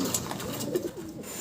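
Racing pigeons coo softly and continuously at close range, low rolling calls overlapping in a loft with faint background noise and no talk.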